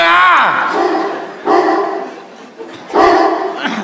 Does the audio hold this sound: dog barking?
yes